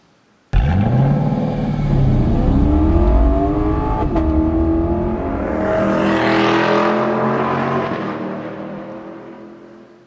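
A Lexus LC 500 luxury coupe engine is revved at a press conference: a loud, close burst of revving that climbs and falls in waves for several seconds, then slowly fades, with no talking.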